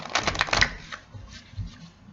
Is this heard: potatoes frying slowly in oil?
no